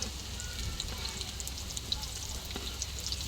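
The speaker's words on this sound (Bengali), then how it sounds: "ডাইলের বড়া পিঠাটা যদি লাল লাল করে ভালো মতন না ভাজা হয় তাহলে মুচমুচে হয় না" Lentil fritters (dal bora) frying in hot oil give a steady, soft sizzle with faint crackles and occasional pops. The sound is close and quiet, with no speech over it.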